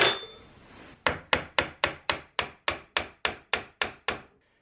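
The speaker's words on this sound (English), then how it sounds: "I'm going to use my punch to drive it in the rest of the way" A hammer striking a nail punch to sink finish nails into wood, twelve sharp evenly spaced close taps after a soft rustle, then silence.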